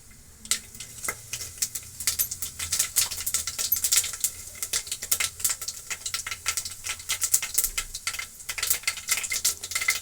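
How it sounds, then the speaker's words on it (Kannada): Mustard seeds splutter in hot oil for bisibele bath, a dense, close crackle of rapid sharp pops that keeps going throughout. "ಈಗ ಎಣ್ಣೆ ಕಾದಿದೆ. ಸಾಸಿವೆ ಹಾಕ್ಕೊಳ್ಳೋಣ."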